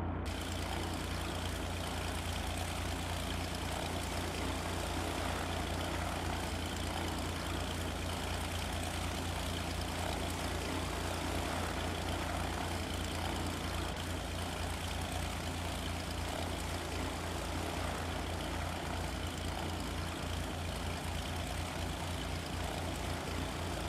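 An aircraft engine in a flight simulator video game hums in a continuous, even drone at steady volume throughout, with no voices.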